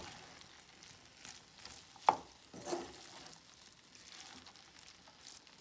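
Cooked rice is tipped into a pan of ground meat and stir-fried. A soft sizzle plays under a sharp scrape of the utensil and a few quiet stirring sounds, all at a low level.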